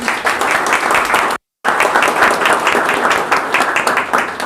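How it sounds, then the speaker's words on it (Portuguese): Audience applause fills a lecture hall at a technical talk on cold storage rooms, steady dense clapping that stops briefly for a split second and then resumes just as loud. "uma salva de palmas para essa noite ser muito boa"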